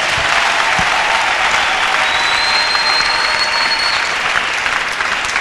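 A church congregation applauding and cheering for Jesus, dense sustained clapping from a large crowd with a few voices calling out, loud and continuous throughout.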